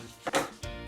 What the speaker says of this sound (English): I'm going to start chopping them up into chunks